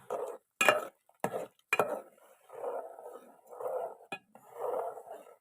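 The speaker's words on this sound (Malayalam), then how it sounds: "ഇളക്കാം." Semolina being stirred into boiling water for upma gives intermittent scraping and clinking of a spoon against a pot, several sharp metallic taps among softer swishing strokes, fairly close and quiet.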